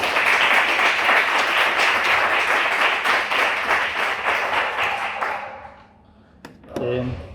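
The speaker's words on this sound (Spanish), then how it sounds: "Un aplauso." A seminar audience gives a dense round of clapping that holds steady, then thins and dies out after about five seconds, followed by a short bit of voice and sound near the end.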